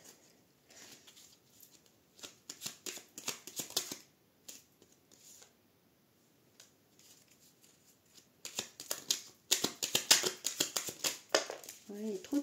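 Playing cards being handled and drawn from a deck, with soft riffling, sliding and snapping bursts in clusters, busier toward the end, while a voice talks intermittently nearby.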